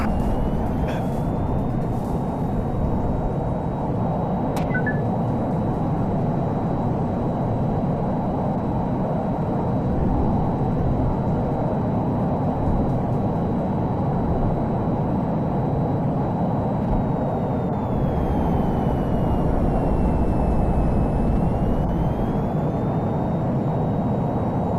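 Plane flying in Jetborne Racing, a steady droning engine roar holding for the whole stretch, with a faint whistling tone that rises and dips as the aircraft maneuvers.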